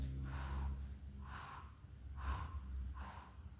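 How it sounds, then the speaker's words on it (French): Steady effortful breathing during an ankle dorsiflexion exercise, four evenly spaced airy puffs roughly one per second, close and quiet over a low rumbling background. "Tu penses à bien respirer."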